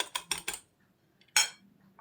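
A utensil stirring beaten eggs and oil in a bowl, heard as three quick close scraping clinks, a pause, then one more louder clink, with no talk.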